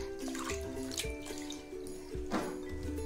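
Soaked rice is rinsed in clean water, giving soft sloshing and dripping close by, with background music running underneath.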